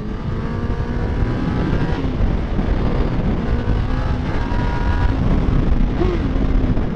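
A 2018 Honda CB1000R motorcycle being pushed hard on a damp road, its engine a loud, continuous roar with rising harmonic tones through the whole stretch and some wind rush.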